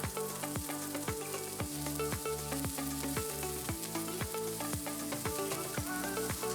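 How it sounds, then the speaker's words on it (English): Onion fries in a pan with a steady, close sizzle and crackle, while rhythmic stirring strokes repeat throughout. "Fry the onion for 1-2 minutes."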